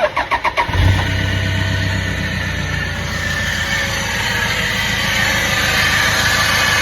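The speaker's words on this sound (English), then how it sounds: "My little chirpy noise, which I thought was from an idler pulley or maybe the alternator, has now gone to a loud squealing noise." A car engine with a failing alternator or idler pulley and the battery light on cranks briefly in a few rapid pulses, then catches and settles into a loud, steady idle with a thin, high squeal running over it.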